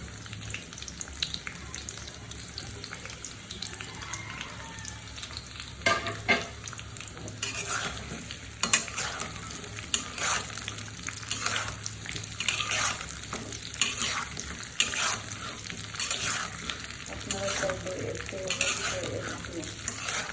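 Mango pieces tipped into a hot pan for a sweet date-palm jaggery mango pickle, followed by steady stirring and clinking utensils against the pan under a soft sizzle, with a louder scrape around the middle.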